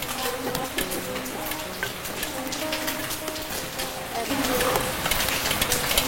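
Steady outdoor rain patters on surfaces around a charcoal cooking fire, a dense hiss with scattered drop ticks throughout, with faint voices mixed in.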